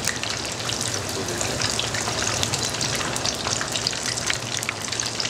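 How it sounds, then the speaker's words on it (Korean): Steady, dense crackling sizzle of pork and shrimp deep-frying slowly in oil at low temperature, continuous and close, with a faint low hum underneath. "그래서 낮은 온도에서 천천히 튀겨주시면 됩니다"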